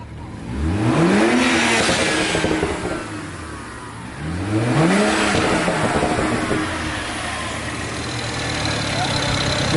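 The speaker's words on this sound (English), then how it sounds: "let me hear the exhaust, bro." A BMW 335is with an N54 engine revs up twice in loud rising exhaust sweeps, then settles into a rough, rumbling idle close by.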